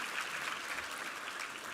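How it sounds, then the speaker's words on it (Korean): A church congregation applauds together during a Sunday worship service, a steady dense wash of clapping from many hands that holds level and fairly loud throughout. "우리 하나님께 감사와 영광의 박수 올려드리겠습니다."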